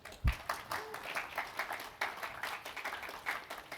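An audience clapping at a technical talk on CloudKit syncing, scattered, fairly light applause from a modest crowd with an uneven rhythm, heard at moderate distance and fading in and out.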